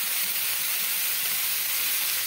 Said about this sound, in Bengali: এবারে মিডিয়াম টু হাই ফ্লেমে রেখে এভাবে জাস্ট একটু ভেজে নিচ্ছি